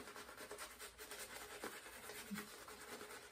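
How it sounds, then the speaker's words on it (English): A shaving brush scrubs soap lather into four days of whisker growth, making a soft continuous rubbing and scratching, close and quiet, with no talk. "So I want to make sure I'm going to scrub real good."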